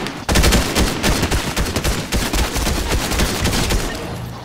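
Rapid gunfire in the video game Fortnite, dense bursts of shots cracking in quick succession, loud and close, continuing throughout with no pause.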